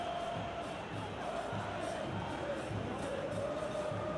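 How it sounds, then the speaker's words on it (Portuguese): Football fans at Mineirão stadium in Belo Horizonte, during Cruzeiro versus Fluminense in the 2019 Copa do Brasil round of 16, keep up a continuous distant roar with rhythmic, pulsing chants. "Torcida vai fazendo a festa aqui no Mineirão."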